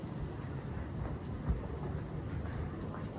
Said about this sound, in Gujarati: આજે છે ને જો આખો દિવસ વરસાદ